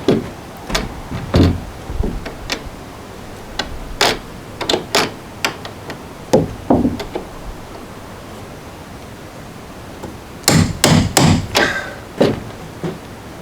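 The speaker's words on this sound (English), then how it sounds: "I'll pull the door closed tight and then hit this handle so that this drives a divot" A hammer repeatedly strikes a cottage door handle with the door pulled tight, giving sharp, close, irregular knocks with a tight cluster of rapid blows near the end.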